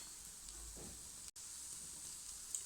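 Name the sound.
lentil pancake cooking on a hot pan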